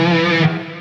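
A Les Paul electric guitar with a driven, effects-laden tone rings out in a single sustained, loud chord that fades slightly near the end.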